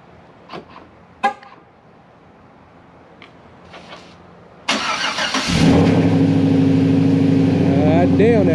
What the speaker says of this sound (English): Let me give y'all a cold start real quick.